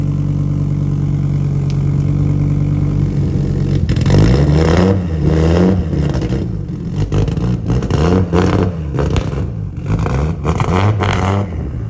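An Audi S4 C4 2.2-litre turbo 20-valve quattro engine runs steadily while warming up, then revs up repeatedly in rising and falling surges, loud and close, with no one speaking.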